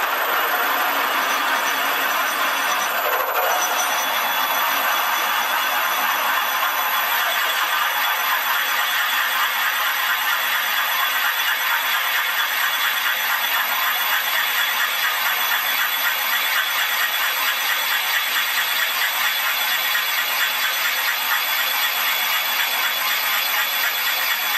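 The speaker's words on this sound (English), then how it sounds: "we're going to bore these holes halfway through from each side" A machine bores holes halfway into a cast iron straight edge, giving a steady, continuous mechanical whine and rumble with a high tonal hum; one brief knock early on, no talking.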